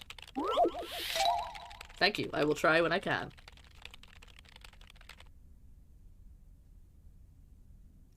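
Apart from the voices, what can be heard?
video game character typing on a keyboard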